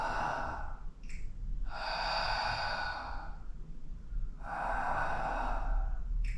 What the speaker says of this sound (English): you need to know how to get those breaths in, how to tie them together